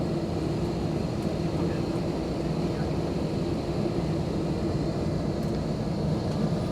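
Inside an airliner cabin on a domestic flight from Bangkok to Chiang Mai, a constant engine roar and rushing air drone fill the space at an even level throughout, with no clear talk over it.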